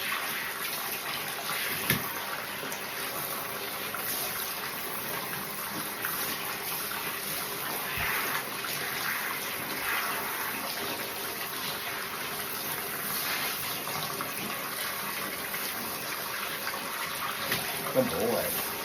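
Water from a bathing tap rinses conditioner out of a dog's coat in a steady, continuous gush that runs throughout, with a couple of faint knocks.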